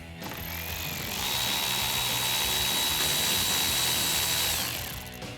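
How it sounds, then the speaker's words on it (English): A powered ratchet spins an 8mm bolt out from behind the steering wheel cap of a Ford Mustang, making a steady, close mechanical whir that ramps up, holds for several seconds and winds down, with no talking. "you guys can see the 8mm bolt that's back there. All right, so we're going to go ahead and remove this bolt."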